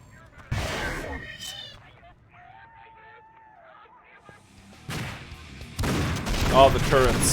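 Turret fire in the shooter Painkiller: Hell & Damnation, loud bursts of gunfire at the start and again near the end, with quieter electronic game sounds in between.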